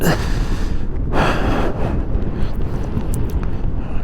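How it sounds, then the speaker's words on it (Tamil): Strong wind buffets the microphone in a continuous roar in the Engadin, Switzerland, with louder gusts surging near the start and around one second in. "இந்த காற்று பாருங்கள் இந்த கொடியை பார்க்கல தெரியும் அவ்வளோ வீச்சாக காற்று அடிக்குதுன்னு"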